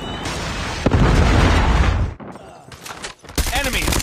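Predator missile strike in Call of Duty Mobile: a heavy, loud explosive blast with a rumbling barrage of detonations for over a second, dropping away before further bursts and clatter near the end.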